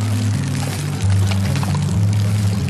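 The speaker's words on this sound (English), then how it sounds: "You'll see that now it's clear water coming out and being pumped" A pump pushes pond water up through a chamber with flap valves and out of an outlet hose, giving a continuous close gushing pour over a low mechanical hum.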